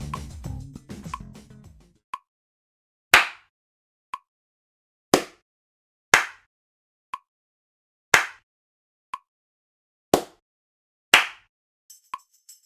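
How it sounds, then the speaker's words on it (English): Sharp hand claps in a spaced rhythmic pattern, single and paired claps separated by silences, some accented brighter high claps, crisp and close after a short soft lead-in. "we will clap 1 time, then 2 and finally 1, always with a silence between and accentuation with the high clap in this way"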